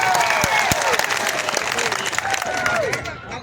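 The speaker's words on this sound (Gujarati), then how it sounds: "આપણે એમને જોરદાર તાળીઓના ગણગણાટથી એમનું સ્વાગત કરી રહ્યું" Audience applause welcoming a speaker at an Aam Aadmi Party political meeting, steady crowd clapping throughout, with some reverberant tonal sound over it.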